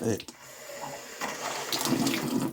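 A tap being tried in a damp abandoned house, water running and splashing steadily at close range, louder in the second half, with faint voices in the background.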